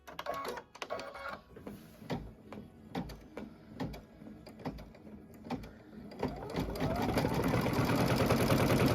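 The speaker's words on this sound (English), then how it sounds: "it's going to do a satin stitch in between here now" An embroidery sewing machine stitching a satin stitch, with rapid rhythmic mechanical clatter and needle strikes that build into a denser, steady whir toward the end, close and alone.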